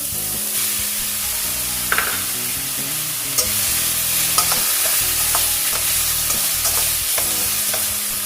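Medium tomatoes going into a sizzling pan for Bihari-style chickpea chaat: a steady, close frying sizzle with stirring scrapes and a few sharp utensil clinks against the pan, and no talking.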